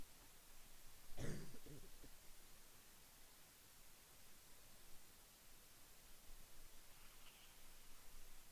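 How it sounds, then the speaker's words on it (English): A single short cough bursts out close to the mic near the start, then fades into a steady hiss of background noise with no talking. "I'm going to cough"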